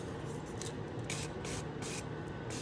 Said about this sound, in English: Is it just olive oil spray?